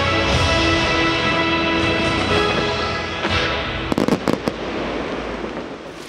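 Fireworks at the Puy du Fou night show: a loud, steady wash of crackling and rumbling bursts, then a cluster of sharp bangs near the end, heard from the audience at a distance.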